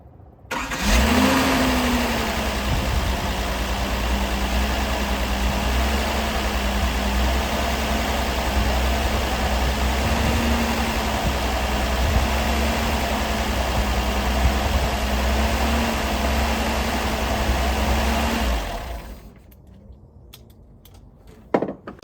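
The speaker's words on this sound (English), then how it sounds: "The engine's also running super duper smooth." A 1978 Datsun 280Z fitted with 240Z carburetors cranks and catches, then settles into a steady, smooth idle that runs loud and close for about eighteen seconds before cutting off.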